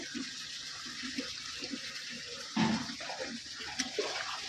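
Water poured into a cooking pot of vegetarian shukto with fried lentil dumplings, a brief close splash and gush rising over quiet kitchen background before trailing off.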